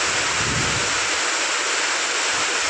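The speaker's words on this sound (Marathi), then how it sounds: "वारं पण तितकंच आहे, पाऊस पण तितकाच आहे." Heavy rain pours down with wind roaring in a steady, dense wash, loud and close, with no voices, outdoors in open farmland.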